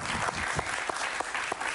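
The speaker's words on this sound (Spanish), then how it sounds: "Un aplauso para ella, por favor." Short burst of audience applause for a journalist in a studio, fairly faint but clear clapping with a few distinct sharper claps standing out over the dense patter.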